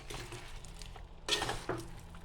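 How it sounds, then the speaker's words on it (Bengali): A spoon or spatula stirs jujube pickle with jaggery in a pan over medium heat, giving faint scraping and a couple of soft clinks against the metal, quiet and close. "তো আমি গুড়টা দিয়ে দিচ্ছি এখন সুন্দর করে নাড়বো"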